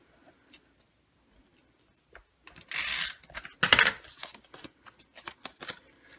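Scissors trim a piece of card stock for a handmade folded greeting card in several close, crisp snips and short cutting bursts, with quiet rustling of paper between cuts.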